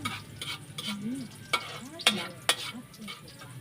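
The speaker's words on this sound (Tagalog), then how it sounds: "Ilalagay na po niya yung bawang, sibuyas" Garlic and onion frying in hot oil in a pan, a steady sizzle broken by sharp scraping stirs and clinks, close up with faint voices in the background.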